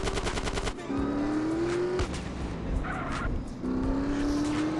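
Motorbike engine in GTA San Andreas revs in rising tones under loud machine-gun fire and game sounds, with the engine pitch climbing twice in steady sweeps.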